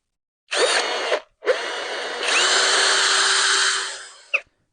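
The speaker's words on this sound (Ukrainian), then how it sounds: "Давайте порівняємо з цим, з моїм стареньким шуриком." An old cordless screwdriver motor whirs in three bursts, a short run, a pause, then a longer high-pitched whine that rises and winds down before a final brief blip, close and loud.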